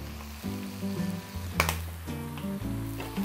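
Tofu and egg stir-fried in a wok with soy sauce and white pepper, sizzling steadily with bursts of scraping and stirring, close and alone without talk.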